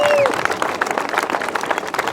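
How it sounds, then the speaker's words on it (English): A crowd applauds at a British Masters grasstrack motorcycle racing event. The clapping is dense and fairly loud, and a tone fades out at the very start. "So I think that is a real thing that needs a real round of applause for Will."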